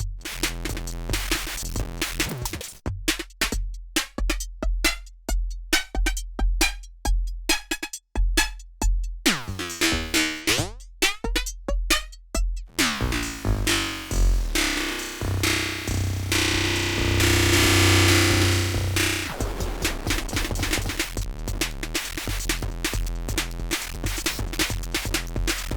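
Erica Synths Zen Delay in vintage mode gives a gritty, bitcrushed, distorted synth sound: choppy, stuttering pulses that smear into a dense, noisy, sweeping wash, loud and continuous.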